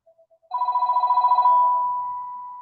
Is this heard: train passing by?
no